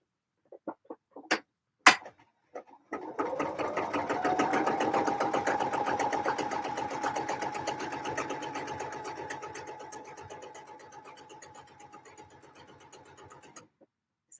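Sewing machine top-stitching green denim: a few clicks and handling knocks, then a rapid, even run of needle strokes for about ten seconds that gradually slows and stops. No talking.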